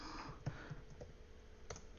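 Typing on a computer keyboard during a live stream, a few sparse, faint clicks and taps at irregular intervals against quiet room tone.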